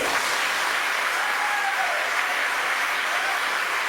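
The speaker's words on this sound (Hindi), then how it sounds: "जोर से तालियां बजानी है" Continuous, even applause from a crowd at a live Hindi poetry performance, dense clapping at a steady level with no breaks for its full length.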